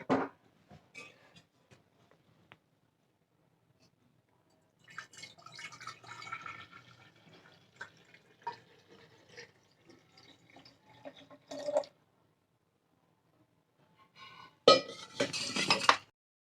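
Homemade beetroot wine is poured into a dried ceramic jar, with intermittent liquid trickles, drips and clinks of the vessel in bursts separated by quiet pauses, ending in a louder splashing pour.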